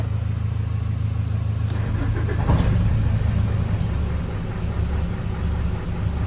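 A car engine runs steadily at a low rumble throughout, with a brief swell in loudness partway through, no voices heard.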